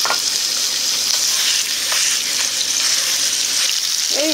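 Ground meat sizzles steadily in a tablespoon of hot oil in a pan for mapo pasta, a dense continuous crackle that holds close and loud throughout, with no talking.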